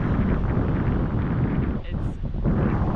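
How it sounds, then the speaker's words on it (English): Strong wind at Diamond Head beach buffeting the microphone, a loud steady roar with a brief dip before gusting back, no talking heard. "The wind totally just turned on."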